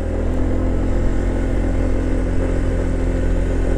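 A motorcycle engine labours hard up a steep coastal road in Bicol, a loud, steady low drone held under heavy load without any shifts in pitch, close to the rider and with no talking.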